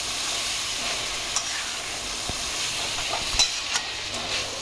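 Grated sweet potato kis is stirred in a pan over a low flame. A soft steady sizzle carries sparse scraping clinks of the spoon. The sound is quiet, with no talking.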